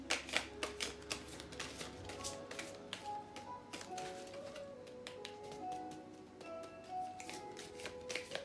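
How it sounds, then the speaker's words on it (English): Tarot cards are reshuffled by hand in a series of quick papery riffles and soft taps, close and moderately quiet, with faint background music underneath. "Let's get a reshuffle here."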